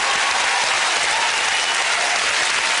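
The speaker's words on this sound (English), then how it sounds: "Give them a big round of applause to Vincent!" A television game show studio audience applauds loudly and continuously, a thick, uniform roar of clapping with no talk over it.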